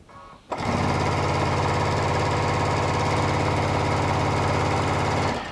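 A sewing machine stitches quilt fabric made from Tula Pink charms and strips, starting abruptly after a brief pause, then running as a steady, loud, fast mechanical whir and needle chatter without a break, with no voices.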